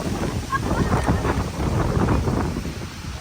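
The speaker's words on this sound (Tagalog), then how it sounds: "Lakas ng hangin." Strong wind buffets the microphone at a viewdeck in Cuenca, Batangas, with a continuous low rumble and gusty roar, with no other sounds standing out.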